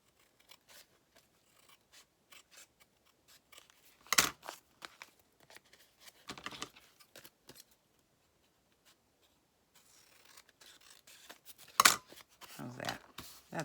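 Scissors trimming fabric on a small quilted or sewn craft piece, heard as a few crisp snips and scraping cuts with quiet handling noise in between, close and fairly soft, with brief talk.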